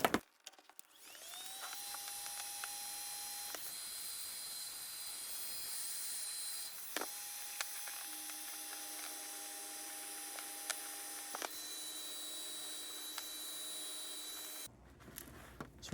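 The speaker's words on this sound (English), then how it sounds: "Get the heat gun started so we can shrink the tubing." A heat gun for shrinking tubing runs with a steady high-pitched whine and airy hiss, clicking on and off between stretches and holding a constant drone before cutting out near the end.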